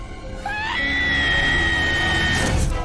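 A woman screams in terror during a horror film scene. A single shrill, sustained scream rises after a brief start and holds loudly for about two seconds before cutting off.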